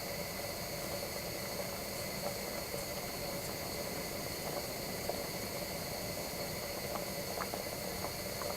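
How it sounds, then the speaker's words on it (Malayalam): Salted water boiling in a pot for egg biryani, a steady dense bubbling hiss that stays even and unbroken throughout, close and fairly loud with no talking. "ഇത് നമുക്കിനി നന്നായിട്ട് തിളപ്പിച്ചെടുക്കാം"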